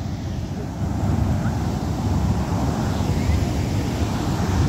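Sea waves wash onto the shore of the Mediterranean coast of Israel, a steady broad roar mixed with wind rumble on the microphone, continuous and fairly loud with no speech.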